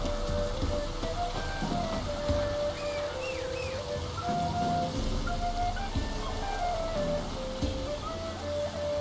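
Steady rain falls throughout in The Witcher 3 video game, a dense continuous patter with faint tonal game sounds drifting underneath and no speech.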